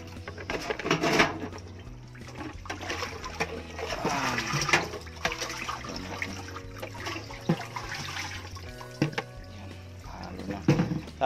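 Clear water is poured and stirred in a container to culture daphnia. There is steady splashing and sloshing up close, with a few knocks and clatters throughout.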